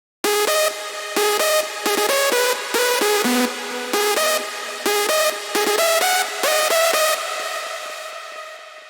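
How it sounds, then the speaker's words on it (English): A bigroom hardstyle main synth lead rings out in bright, buzzy, stabbing chord phrases with short gaps between bursts, loud and unaccompanied, fading gradually over the last couple of seconds. "this is the first hardstyle lead which I used as a main lead,"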